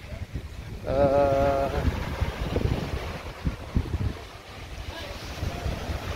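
Waves breaking on Tanjung Kelayang beach in Belitung, a steady rushing surf under gusty wind noise, with a brief tonal hum from a passing boat engine near the start.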